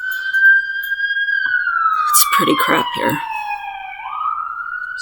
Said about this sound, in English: Sorry for the freaking sirens going by.